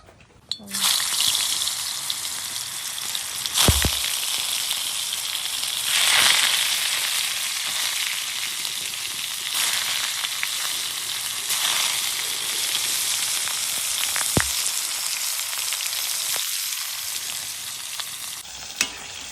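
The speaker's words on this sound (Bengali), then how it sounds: "মাছ ভাজা শেষ হলো না।" Pangas fish frying in a pan of hot oil, a steady close sizzle and crackle running throughout with a few brief louder clatters, and faint voices now and then in the background.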